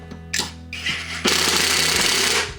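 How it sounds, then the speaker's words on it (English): Screws on a Husqvarna self-propelled lawn mower are tightened with a power driver, giving short bursts of whirring, then a loud sustained buzzing rattle close by. "we're gonna go ahead and tighten down our screws here"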